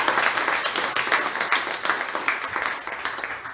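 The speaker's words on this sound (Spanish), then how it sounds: "Dale un aplauso a Dios por eso." A church congregation applauds, a lively, fairly close burst of many hands clapping in a dense, rippling rhythm that continues throughout without letting up.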